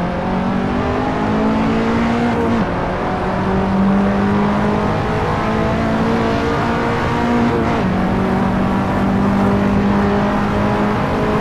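A KTM X-Bow R race car engine on the Nordschleife in the Assetto Corsa racing game, a loud continuous high-revving drone that climbs through the gears with brief shift dips, heard alone with no talk.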